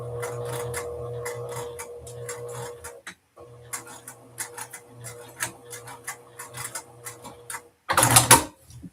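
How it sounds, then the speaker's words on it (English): A sewing machine top stitching a dress pocket at an eighth of an inch: rapid, steady mechanical ticking of the needle, close and soft, with a brief pause and a louder clatter near the end. "I am sewing at 1/8 of an inch. Just top stitching the pocket"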